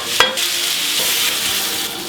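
Onions fry in a hot pan with a constant sizzle and a sharp stir or scrape near the start.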